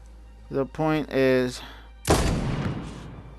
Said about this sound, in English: But always time for a shotgun.